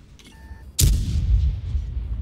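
A single loud tank cannon shot in the video game World of Tanks, erupting suddenly after a quiet moment and rolling into a heavy, rumbling boom that lingers.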